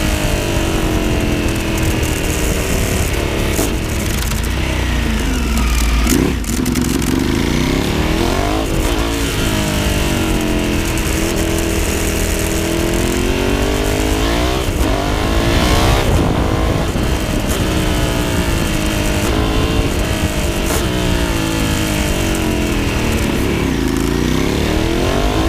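A 200-horsepower motorcycle engine revs loudly and steadily, close by, with rising and falling pitch through a fast lap and no pause for the whole stretch.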